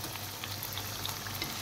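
Sweet potato with brown sugar sizzles in hot oil, a steady dense crackle of frying with no voices over it.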